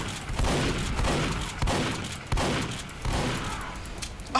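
Repeated gunshots from Team Fortress 2 gameplay, a run of sharp bursts spaced roughly every second or so over a steady noisy game background, moderately loud with no talking.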